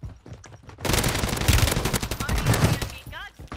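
Gunshots in a shooter video game: a few scattered single shots open, then a loud, dense burst of automatic fire rattles for about two seconds before tapering off.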